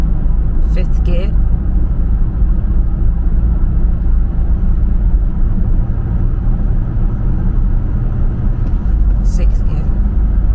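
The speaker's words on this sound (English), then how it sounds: "Still a little cold, just running through the gears." A BMW E84 car with a still-cold engine runs up through the gears, giving a loud, steady low rumble and drone from inside the car that holds for the whole stretch.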